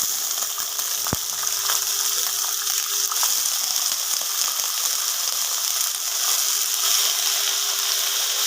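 Finely chopped potatoes and onions hitting hot oil in a Bengali home kitchen, a loud continuous sizzle and crackle with a brief stirring clatter early on, close up and steady, no talking.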